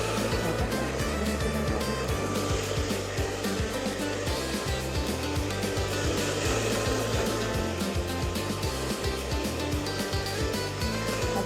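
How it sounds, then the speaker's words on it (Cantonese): A hair dryer blows steadily on hair, a loud continuous close airflow roar lasting throughout with slight fluctuations, no voices. "吹頭髮都有啲技巧嘅喎，揸住啲頭髮咁樣吹喎"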